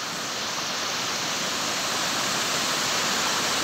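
Banti Falls pours in a steady, powerful roar of rushing water, a dense unbroken wash that stays loud and even from start to finish with no voices over it.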